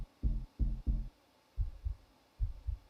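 Heartbeat sound effect in a music mix, layered with a kick drum on the first beat: deep, thumping double beats, three close thuds followed by two softer lub-dub pairs, clean and isolated.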